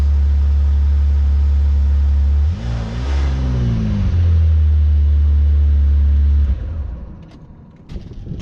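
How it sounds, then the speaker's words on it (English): A Saab 9-3 TurboX car engine runs steadily at idle, loud and close, with a brief rev in the middle before it settles back to a smooth idle and then fades to quieter background noise near the end. "This car's running beautifully."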